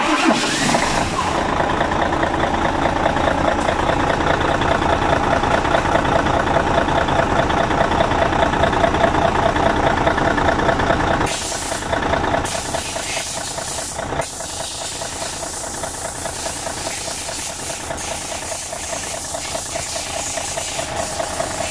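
A Mercedes Actros truck engine runs loudly and steadily at idle with its AC compressor engaged, a dense mechanical drone that dips briefly partway through before settling back into a continuous rumble.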